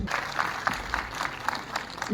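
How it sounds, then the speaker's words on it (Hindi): Scattered audience clapping at a school cultural heritage event, with a rhythmic, slightly uneven pattern and a murmur of crowd voices beneath it. "तालियां प्लीज।"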